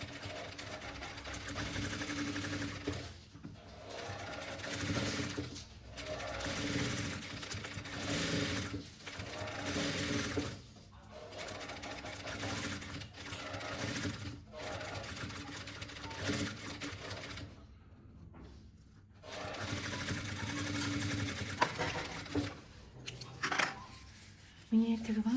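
A sewing machine stitches soft and stiff fabric together for a bomber jacket, running in repeated bursts of a few seconds each with short pauses between them, steady and close by.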